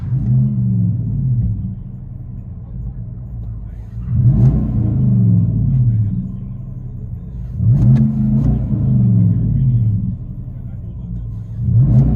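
A Chevy Silverado 6.2L V8 exhaust heard from inside the cab: a muffled low rumble with three rev swells, mixed with people talking nearby.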